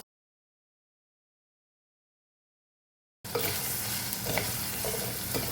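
After three seconds of silence, shallots and green chili hit hot oil after mustard seeds have popped and burst into a loud, steady sizzle and crackle.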